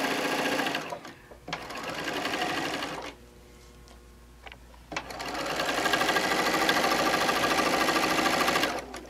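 A sewing machine stitches quilt pieces in bursts, a fast steady mechanical whirr stopping briefly in the middle before starting again for a longer run.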